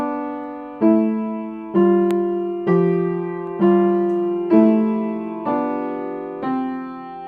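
Both hands play a contrary motion exercise on a piano, with the pinkies held down: about eight evenly spaced notes or chords each ring out and decay, close and clear with no talking.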